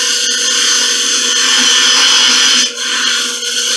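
A wood lathe with a duplicator cuts a long spindle down to a small diameter, giving a loud sustained whine and scraping hiss that dips briefly near the end.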